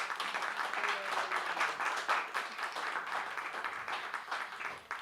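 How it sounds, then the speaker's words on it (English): An audience at a free expression panel event gives a warm round of applause to welcome the panelists, a full, steady patter of many hands clapping that tapers off near the end. "Please give them a warm round of applause for making the time."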